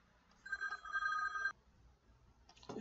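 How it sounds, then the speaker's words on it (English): An electronic telephone rings in a workshop during a pump repair, a steady warbling trill of about one second, loud and close, then stops, followed by a brief clatter. "I got to answer the phone here"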